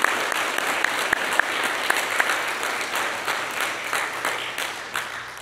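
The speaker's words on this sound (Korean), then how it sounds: "땀 흘리고 수고하는 우리 아버님들을 위해서 박수로 한번 격려해 주시겠습니까?" A church congregation claps to encourage hardworking fathers during a Sunday service, a dense, even round of applause with a few sharper individual claps standing out, fading slightly toward the end.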